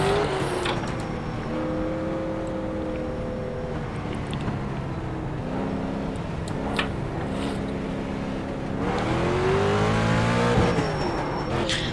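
A street stock race car in the iRacing game at Langley accelerates, its engine note climbing and dropping through repeated gear-like sweeps, steady and loud throughout with no voices.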